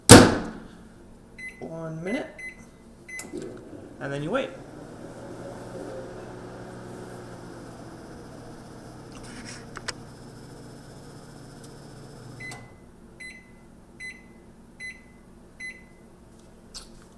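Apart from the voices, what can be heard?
microwave oven door closing and heating sausage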